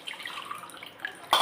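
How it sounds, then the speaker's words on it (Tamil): Water is poured out of a stone mortar after washing it, first as a faint trickle and drip, then ending in a short, louder splash. "அந்த தண்ணியை ஊற்றிடுவோம்."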